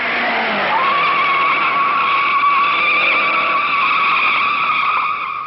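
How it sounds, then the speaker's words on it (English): A 1956 Indianapolis race car driven by rookie Jack Turner rushes through a corner, its engine roaring steadily with a rising, sustained tire squeal, loud and close, on a narrow-band old recording. "Rookie Jack Turner hurries through a corner."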